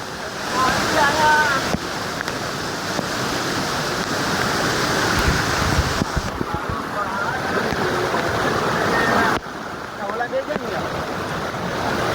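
Loud, steady rushing water roars throughout at Jatashankar Mahadev temple, Junagadh, during rain, with voices calling over it and a brief drop in the noise near the end.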